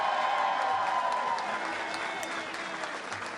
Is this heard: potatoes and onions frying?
no